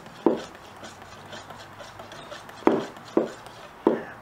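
Rubbing strokes of polish worked along an airgun barrel, heard as a few short, close scuffing swipes over a quiet background, with a long pause before three more strokes in quick succession.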